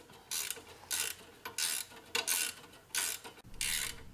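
A nut is tightened on an MMT-1 Mustang rear upper control arm bushing tool, giving repeated short ratcheting bursts at a steady rhythm, close up and moderately loud with quiet gaps between strokes.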